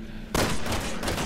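Gunfire in Resident Evil 6, a sudden sharp shot bursting in after a quiet moment and ringing out with a rattling follow-up, close and loud with no voices.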